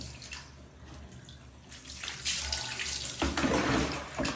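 Steady running water from a tap or shower while a shih tzu is bathed, a continuous hiss that swells louder and splashier in the second half.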